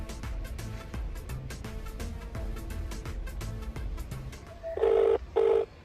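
A telephone call being placed: a run of short keypad tones and clicks, then two loud, steady ringback tones close at the end, with no one speaking.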